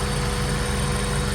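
An Acura Integra engine idles high with a steady, low throbbing rumble, close and constant throughout.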